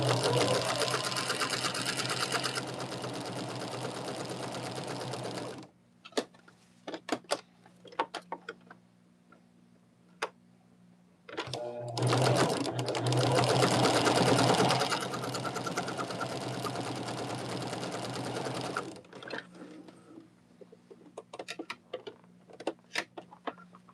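A sewing machine stitches quarter-inch seams on half square triangles for a ribbon quilt block in two long, steady runs, separated by quieter stretches of small clicks and handling, close by with no speech.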